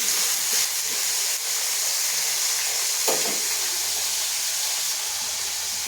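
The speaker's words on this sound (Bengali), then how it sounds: "কমিয়ে নিলাম গ্যাসটা, আস্তে আস্তে ভাজবো আলুটা" A potato fries slowly in a pan over low gas, with a steady, even sizzling hiss and occasional soft pops.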